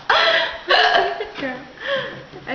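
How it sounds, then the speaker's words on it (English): Hiccups from a person with a lasting bout, a few sharp gulping bursts close to the mic, mixed with laughter and brief voices. "I think you have worse hiccups than me."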